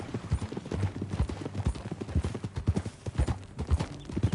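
Horse hooves clip-clop in a quick, steady rhythm on a hard surface in a PS4 video game, close by and fairly quiet.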